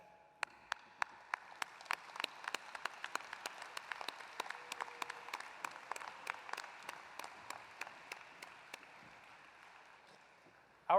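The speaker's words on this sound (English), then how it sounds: "please join me in a round of applause for these dedicated volunteers listed on pages 5 and 7" Audience at an FFA state convention session claps for volunteers: sparse, distinct hand claps at first that build into a moderate, steady round of applause in a large hall, ending abruptly.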